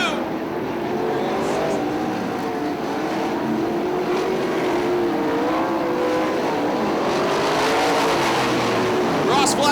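410 sprint cars roar around Fremont Speedway in a loud, continuous pack, engines droning and rising as they race side by side out of a turn, with an announcer talking over them.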